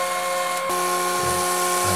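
A power drill boring holes in stock with a 15/16 drill bit against stop blocks, a steady whining motor tone with a shift in pitch partway through, close and loud.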